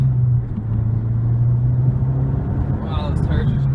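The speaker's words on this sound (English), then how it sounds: "I'm gonna give this thing a little gas, getting onto the roadway here" A 2008 Mazdaspeed3, a front-wheel-drive hatchback with a manual clutch, pulls onto a roadway under throttle, its steady low engine drone heard from inside the cabin, with a brief higher whine near the end.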